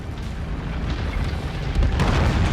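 An enemy mech fires back in the MechWarrior 5: Mercenaries video game, a deep rumbling barrage of booming weapon blasts that swells louder near the end, with no voices over it.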